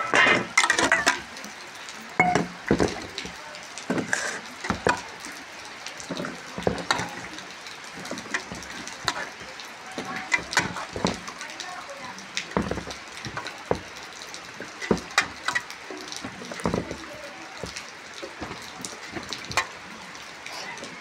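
A knife cuts squash and potatoes in a home kitchen, producing a long run of sharp, crisp chops and cracks at an uneven rhythm, close up with no talking.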